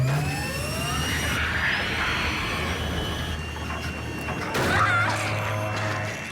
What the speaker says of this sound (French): Mise en marche des moteurs.